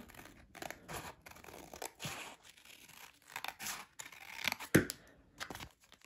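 Scissors trimming paper for a no-sew junk journal, a run of close snipping and crisp cutting sounds with some rustling and crinkling of the paper, uneven in rhythm and heard without talk.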